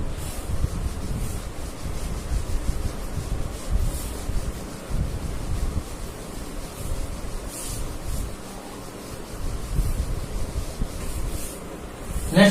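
A board eraser rubs writing off a classroom board during a live science class, making a continuous coarse scrubbing and swishing that stays fairly steady for about twelve seconds, with no talking.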